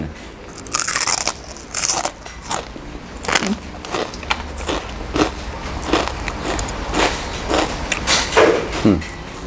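Crunchy pork cracklings are bitten and chewed up close, a steady run of sharp crackling crunches repeating about every half second, loud and dry with no talking over them.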